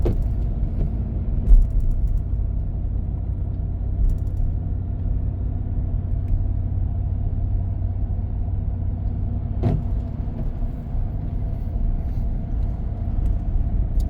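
A four-wheel drive vehicle rolls along a back country road, giving a steady low engine and road rumble with one brief knock near the start and another midway.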